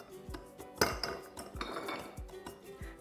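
Large ice cubes drop into a glass at a table while sparkling rosemary lemonade is being made, giving a series of sharp, close clinks and knocks, one louder strike near the start, spread irregularly over a few seconds.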